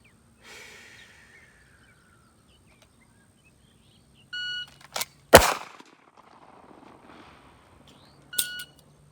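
A single sharp gunshot fired during a timed shooting drill, loud and close, standing alone against near silence with a few faint clicks and noises before and after.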